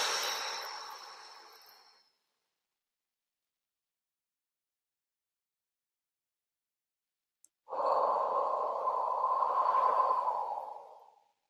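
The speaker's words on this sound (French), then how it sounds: "Et on fait 3 respirations de nettoyage." Deep cleansing breaths during a guided meditation: one long, loud exhale fades out, followed by several seconds of silence and then another long, steady breath.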